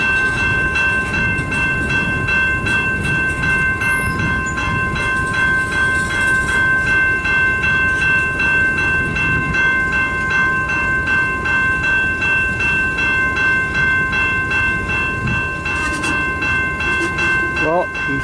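A long CN mixed freight train rumbles loudly past while slowing to a stop, with steady rolling wheel noise and a sustained metallic squeal, grinding on without a break.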